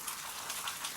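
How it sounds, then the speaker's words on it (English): Water dripping from a big icicle outdoors, a soft steady patter of small drops, faint and continuous like light rain. "You can hear it dripping."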